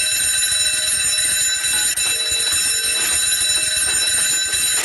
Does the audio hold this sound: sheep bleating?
no